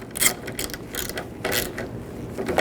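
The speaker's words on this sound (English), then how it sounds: "You can snug this nut down." A wrench ratchets a nut down on a 1999–2007 Chevy Silverado 2500HD driver door handle, giving a series of close, rapid mechanical clicks in short bursts.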